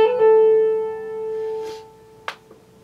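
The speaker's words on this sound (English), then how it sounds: "I like to do a little hammer-on pull-off." A guitar plays a hammer-on and pull-off in the solo of a song: a sustained ringing note with quick legato changes and a couple of soft string or finger noises, quiet and close.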